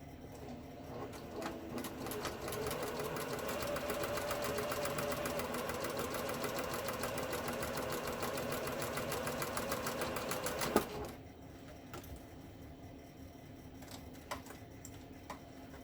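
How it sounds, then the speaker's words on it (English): A sewing machine stitches a face mask in a fast, steady mechanical whir for about ten seconds, then stops, leaving faint clicks and handling sounds. "I'm going to get over to my sewing machine."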